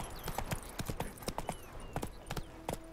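A horse trots in The Witcher 3 with quick, crisp clip-clop hoofbeats in an uneven rhythm. The sound is fairly faint and close throughout the short stretch.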